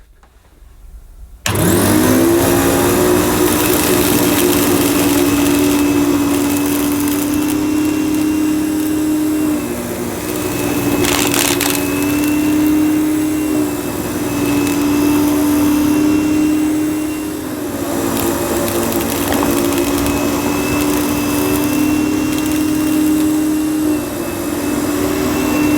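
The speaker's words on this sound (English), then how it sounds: "I'll do it on setting 3, I think." A Hoover Enigma Evo vacuum cleaner switches on at power setting 3 and runs loud and close with a steady motor whine, its pitch dipping briefly a few times as the cleaner is pushed over the carpet, with no talking.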